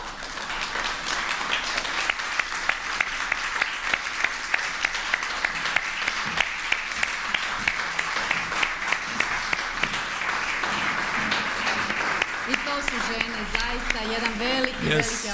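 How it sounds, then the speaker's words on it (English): A large crowd at a women entrepreneurs' awards event applauds steadily for a long stretch, dense clapping throughout, with a voice coming in faintly near the end. "Please give her an applause, strong applause."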